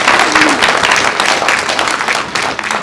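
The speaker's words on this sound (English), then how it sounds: "Round of applause for you two." A lecture audience at a chocolate science talk bursts into loud, dense applause, many hands clapping at once in a sustained, close wash of sound.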